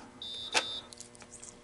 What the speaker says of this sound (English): You can hear that beep, I hope. That was our escrow return, they call it.